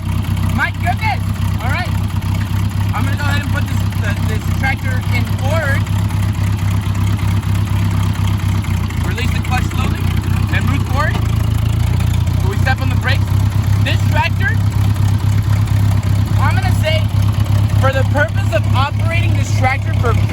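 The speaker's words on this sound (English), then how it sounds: "I'm gonna go ahead and put this tractor in forward." A tractor engine rumbles continuously nearby while driving forward, a steady low drone with occasional clanks and rattles over about twenty seconds.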